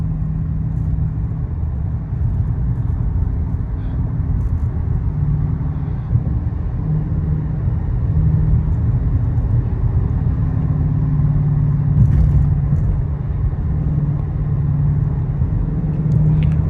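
Cabin view of a Dodge Challenger R/T being driven, with a steady low engine and road rumble droning evenly throughout and no voices.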